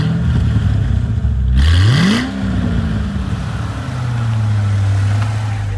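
A Corvette C6 Z06 on a canyon drive revs hard and accelerates, engine note climbing sharply then settling into a steady drone as it shifts and cruises on, loud and close from inside the car.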